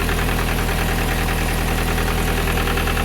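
A Rover 25 GTI engine idles just after starting, having sat unused for about six weeks; a steady, loud, close rumble with an even pulsing beat and no voices.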